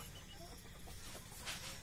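Desi hens clucking softly at a poultry farm keeping Kadaknath chickens, a faint, low clucking against steady background noise, with one slightly louder burst near the end and no talking.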